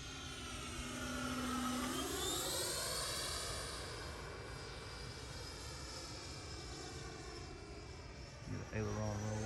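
An RC sport jet makes a flying pass, its steady whining turbine drone sweeping in pitch as it passes and fades, heard at a distance under outdoor wind noise.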